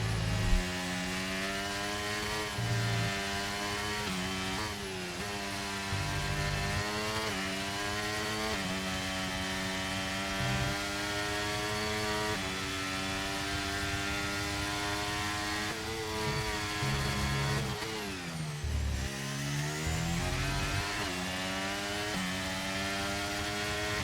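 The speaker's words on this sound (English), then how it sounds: "I will leave you with the pure engine sound of the Red Bull powertrain's car" Red Bull Formula 1 car from the F1 23 video game lapping Suzuka, its engine a loud, continuous high-revving whine that climbs and drops through gear changes, dipping sharply under braking before winding back up, alone with no talk.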